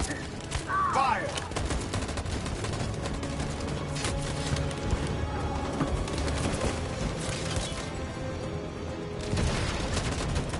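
A volley of gunfire in the Detroit Become Human video game, dense overlapping shots and bursts crackling for several seconds, loud and close with a rumbling backdrop.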